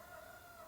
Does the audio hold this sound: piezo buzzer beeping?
no